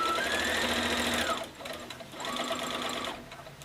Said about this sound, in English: a couple stitches forward, a couple stitches back, and then a couple stitches forward